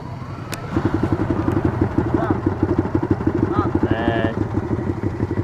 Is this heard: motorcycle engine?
yes